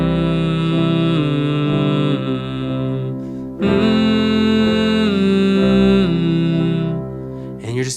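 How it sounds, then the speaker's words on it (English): A sustained hum of the Holy Forever melody carries over a bright harmonic accompaniment, with long smooth notes, a brief dip near the middle, then a fuller, louder return. "sing the melody of the song on a hum"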